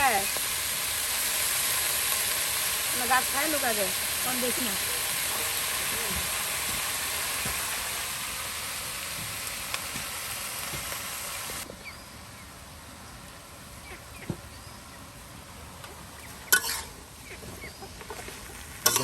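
Mixed-vegetable bhaji fries in a pan in a rural kitchen with a steady, close sizzling hiss that softens after about eleven seconds. Faint chirpy calls and light background noise sit underneath.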